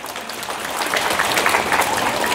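Dense applause from an Islamic congregation at a pesantren sermon, a broad steady wash of many hands clapping that swells slightly and holds for the whole stretch, with no speech over it.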